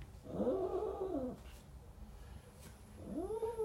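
A cat cries loudly during grooming, two drawn-out, rising-and-falling wails with a quiet gap between them, close to the microphone.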